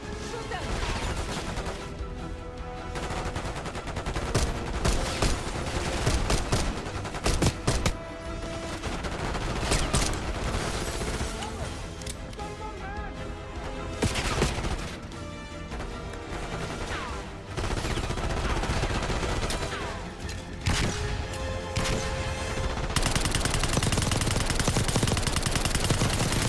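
Gunfire in Call of Duty Black Ops 6 campaign combat: repeated bursts of automatic rifle fire and single loud shots crackle through a noisy battle, dense and close, with brief pauses between volleys.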